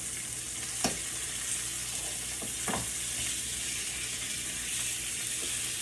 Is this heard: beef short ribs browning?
yes